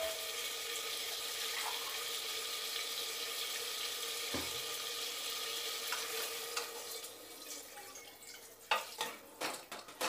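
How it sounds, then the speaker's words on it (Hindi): Water poured into a pan of potato and tomato curry while cooking, a steady rushing pour with frying sizzle and stirring that turns into scattered clatter near the end. "अब इसमें हम डाल देंगे पानी।"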